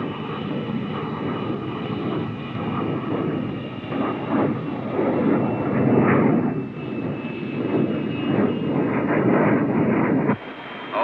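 An X-15 rocket plane's engine roars loudly and steadily on its landing approach, a broad continuous rumble that swells and dips slightly with no voices.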